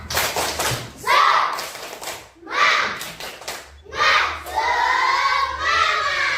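Schoolchildren in a classroom perform a spirited patterned clap, sharp rhythmic bursts of clapping alternating with loud group chanting and shouts in several repeated phrases.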